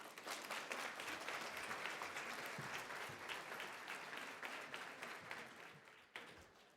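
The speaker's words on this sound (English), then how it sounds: "Please help me welcome Dr. Isoye with a warm applause." A conference room full of people claps warmly and continuously to welcome a speaker, the applause holding steady and tapering slightly toward the close.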